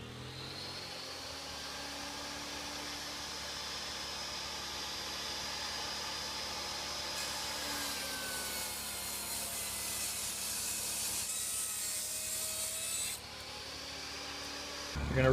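A table saw rips a quarter inch off the edge of a wooden board for a custom door jamb, a steady droning cut with rising whine that runs the whole time before the motor surges at the end.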